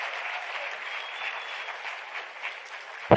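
A conference audience at a science forum closing plenary applauds award winners, a steady even wash of clapping throughout that ends in a sharp knock at the very end.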